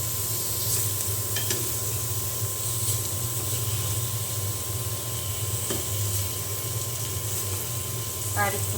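Eggplant slices frying in a pan on their second side, a steady broadband sizzle with a few light clatters and scrapes, continuous and fairly close throughout.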